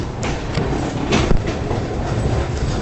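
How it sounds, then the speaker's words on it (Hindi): Andhra Pradesh Express pulling out of Chandrapur station, a steady close rumble of rolling coaches with rhythmic clickety-clack of wheels over rail joints throughout, no talk. "डिपार्चर हो चुका है हमारी आंध्र प्रदेश एक्सप्रेस का चंद्रपुर से"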